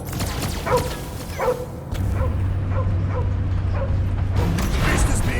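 A dog barks and yips in the Guardians of the Galaxy video game, several sharp barks near the start and then fainter, sparser yelps over a steady low mechanical hum.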